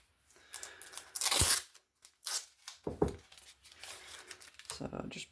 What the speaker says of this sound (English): I think we'll have some new tape.